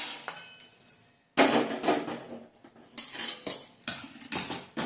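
Roasted peppercorns for rasam powder are scraped and tipped from a pan onto a metal plate, bursts of gritty rattling and metallic clinks broken by short pauses.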